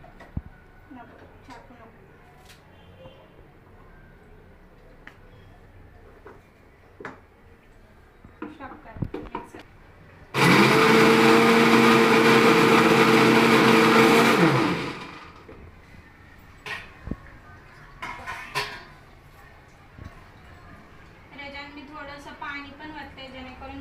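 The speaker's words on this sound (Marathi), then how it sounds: "मी त्याच्यामुळे मिक्सरच्या भांड्याला लावले" A kitchen mixer grinds tomato paste, whirring loudly for about four seconds, then stops; quiet clatter and scattered talk come before and after.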